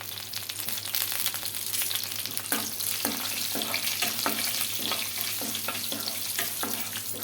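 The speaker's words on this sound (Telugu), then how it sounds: "ఇంకా చట్నీకి అయితే పోపు పెట్టేసుకుంటున్నాను ఇందులోనే మినప్పప్పు జీలకర్ర ఆవాలు అలాగే ఎండుమిర్చి" Urad dal, cumin, mustard seeds and dried red chillies sizzle in hot oil as a tempering for idli chutney, a steady dense crackle with repeated stirring scrapes in a regular rhythm, close and fairly loud, no talk.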